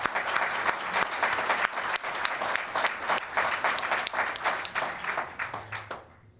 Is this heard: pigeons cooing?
no